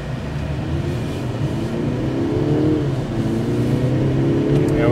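A 2024 Mercedes-Benz CLE300 Cabriolet accelerates to merge into traffic, its engine note rising as a steady low drone from inside the cabin, with road and wind noise throughout.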